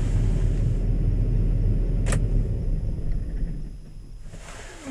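Fendt tractor engine idling on a farmyard, a steady low diesel rumble close by that eases off toward the end, with a brief higher mechanical whine partway through.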